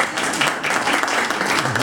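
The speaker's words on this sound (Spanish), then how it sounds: "levántate y recibe un aplauso" An audience at a book presentation breaks into steady applause, dense continuous clapping filling a room at moderate loudness, with no talk over it.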